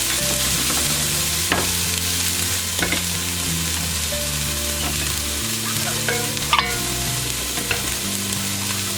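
Onions and garlic sautéing in a pot, with a steady loud sizzle and occasional scrapes and clinks of a utensil stirring, close up and without voices, a low hum running beneath.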